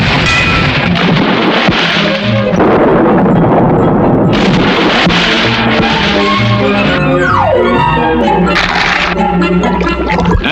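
Battleship cannons fire a broadside at sea: a loud, continuous barrage of booming blasts and rumbling impacts, with splashing water and whistling debris layered throughout, filling the whole stretch without pause.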